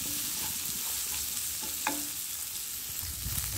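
Onions sautéing in a pan with salt for a coconut-free thiyyal, a quiet, even sizzle with light stirring scrapes and one brief clink, close and soft, no talking.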